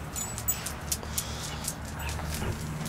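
Dogs indoors whimper and yip in short, repeated high whines at a moderate distance, several brief bursts over a low steady background hum.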